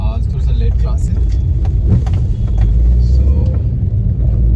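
Road traffic rumbles steadily on an evening city street in India, cars passing close by in a continuous low drone while a person talks.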